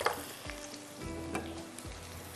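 Onions frying in a pot for chicken shahi handi, a soft steady sizzle with a few light scrapes of a spoon stirring, close and quiet, no voices.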